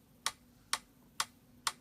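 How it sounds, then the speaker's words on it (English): Punch kick drum sample from a studio mix, four short evenly spaced clicky hits with a tight attack, quiet and played alone. "I use the punch kick that sound like this."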